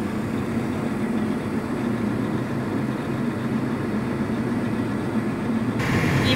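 John Deere 4440 tractor driving on a farm in light rain, a steady low diesel drone heard from inside the cab, continuous and even with no voices over it.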